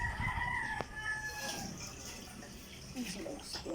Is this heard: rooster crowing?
yes